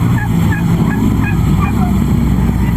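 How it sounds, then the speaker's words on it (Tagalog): Geese honk repeatedly in short nasal calls over a loud, steady background rumble of a busy livestock and meat market. "Napakadami nila ditong gansa ngayon"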